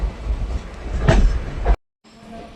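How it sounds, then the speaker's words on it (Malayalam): A freight train rolling past on the Konkan Railway during the monsoon, heard from a passenger train as a loud, close rumble with rhythmic wheel clatter that cuts off abruptly, followed by a quieter hum. "ഇവിടെ ഇതാ ഒരു ഫ്രൈറ്റർ ഉണ്ട്."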